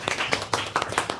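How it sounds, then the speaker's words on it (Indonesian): Students in a classroom clap their hands for a classmate, a short burst of quick scattered claps lasting about a second. "Tepuk tangan dulu untuk teman kamu,"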